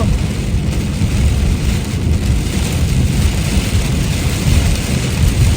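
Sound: very heavy rain in Canada

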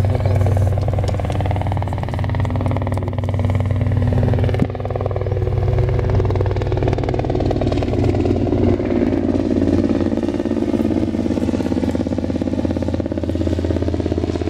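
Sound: airplane flying overhead

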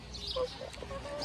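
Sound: chickens clucking

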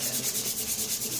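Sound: sanding to smooth a repaired neck

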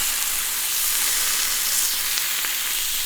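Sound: beef sizzling on a grill

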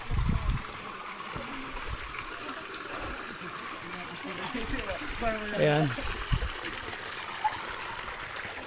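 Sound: running stream water

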